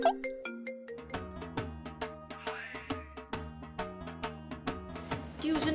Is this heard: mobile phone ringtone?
yes